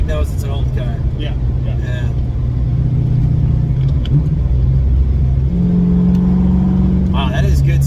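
A 1988 Ford Mustang Foxbody engine drones steadily while driving, with a low rumble that rises in pitch as it accelerates, heard from inside the car under ongoing conversation between occupants.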